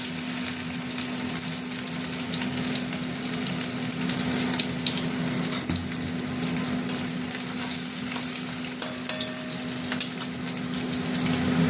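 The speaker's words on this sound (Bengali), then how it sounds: "তেল গরম হয়ে গেছে, পেঁয়াজ দিয়ে দিলাম।" Sliced onions hit hot oil already seasoned with chilli, bay leaf and whole cumin, giving a steady close-up sizzle with occasional clicks of stirring, and no one speaks.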